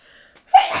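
A single sharp human sneeze bursts out loud and close after a brief quiet intake of breath, ending in a short airy tail.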